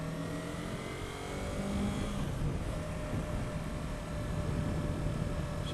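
A 2015 Yamaha R3 motorcycle engine hums along in a steady, fairly loud drone, its pitch easing slightly upward midway as wind rush blends in while riding.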